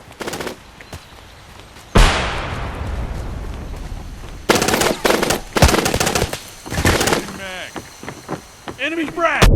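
Gunfire in the online shooter Hired Ops: loud bursts of automatic weapon fire and explosions, with sharp impacts, a sudden blast and crackling tails, while in-game voice callouts are heard in between.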